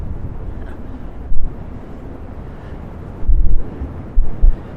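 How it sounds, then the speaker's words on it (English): Wind gusting across open Exmoor moorland in North Devon, a steady rushing buffet against the microphone with several heavier gusts swelling near the end, no talk. "Right now the wind seems to be picking up bigger and bigger on the moors"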